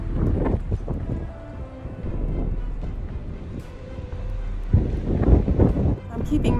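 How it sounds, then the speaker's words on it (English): Strong, gusty Santa Ana winds roar and buffet the microphone on a trail, swelling and easing in loud surges with a few rougher bursts. "the Santa Ana winds are blowing, which are really strong and gusty"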